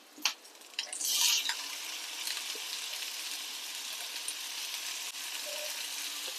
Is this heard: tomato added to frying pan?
yes